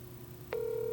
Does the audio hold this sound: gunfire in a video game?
no